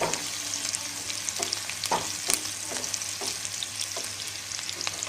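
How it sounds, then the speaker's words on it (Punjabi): Cumin seeds stirred into ridge gourd curry in a hot pan: a close, continuous oil sizzle with repeated spoon scrapes and taps against the pan. "ਹੁਣ ਅਸੀਂ ਇਸ ਵਿੱਚ ਇੱਕ ਚਮਚ ਜੀਰਾ ਪਾ ਦਵਾਂਗੇ ਤੇ ਇਸ ਨੂੰ ਚੰਗੀ ਤਰ੍ਹਾਂ ਮਿਕਸ ਕਰ ਦਵਾਂਗੇ"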